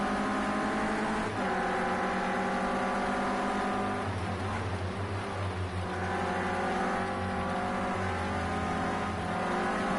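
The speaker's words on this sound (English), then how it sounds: "Just feathering the throttle there" A Renault Clio Cup race car in a racing video game, its engine droning steadily at high revs, the throttle feathered so the pitch dips and rises slightly mid-run, loud and continuous without talk.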